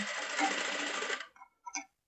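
A sewing machine runs a short, steady close burst while stitching a blouse hook-and-eye belt, then stops, followed by a couple of faint mechanical clicks.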